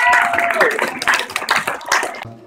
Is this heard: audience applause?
yes